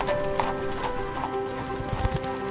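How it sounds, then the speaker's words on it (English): Horse hooves clop in a quick, uneven rhythm over cobblestones, accompanied by steady background noise and faint tonal hum. "the clattering of horse hooves on the cobblestones"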